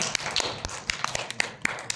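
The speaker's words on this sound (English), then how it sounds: "Let's give him a big round of applause." Scattered audience claps at a Philippine SME business forum, with sharp individual hand strikes popping irregularly over a soft background of more clapping, fairly close and thin rather than a full ovation.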